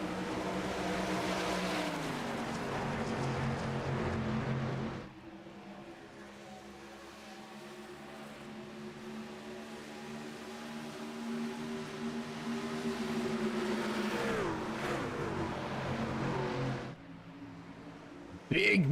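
Race truck engines in a video game, a truck series championship night at Homestead, roar together as the pack gets back on the gas at the green-flag restart: a steady, loud, layered engine drone with rising pitch sweeps, present throughout.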